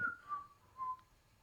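A person whistles a short falling tune of three held notes, close and fairly quiet, with no other sounds around it.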